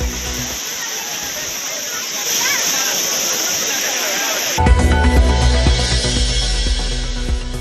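Courtallam waterfall roars with a steady, loud, dense rush of falling water where pilgrims and tourists bathe. Indistinct voices blend in, and the sound shifts abruptly partway through to a harsher, lower splashing.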